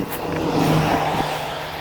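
A car goes by a cyclist riding a gravel bike on a mostly paved road, its steady engine and tire rumble loud and close, swelling briefly and then easing off as it passes.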